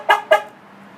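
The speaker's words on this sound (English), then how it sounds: "honking horn." A 2007-2013 Chevy Silverado pickup's horn, triggered by an Autopage basic alarm, gives two short, sharp honks in quick succession, loud and close, followed by quiet.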